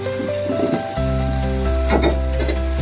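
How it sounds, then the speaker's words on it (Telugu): Garam masala frying for a Telangana-style chicken curry gives a steady close sizzle, joined partway through by a louder, fuller hiss and a few brief scraping stirs, with no voices. "ఇందులో కొద్దిగా గరం మసాలా, ఇవి వేసుకొని కొంచెం బ్రౌన్ కలర్ వచ్చే వరకు వేయించుకోవాలి"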